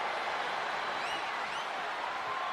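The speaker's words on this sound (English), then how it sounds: "do you hear this capacity crowd?" A capacity arena crowd roars steadily through a no-holds-barred WWE 2K25 match, with a dense, continuous wash of cheering and applause. It holds an even level from start to finish, with no one speaking over it.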